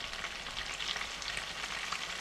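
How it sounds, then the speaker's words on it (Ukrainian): Steady, dense sizzling of crucian carp frying in hot oil over fairly high heat, crackling and spitting continuously at close range with no voices. "Як вона гарно шкварчить. От подивіться, жариться воно на такому досить великому вогні"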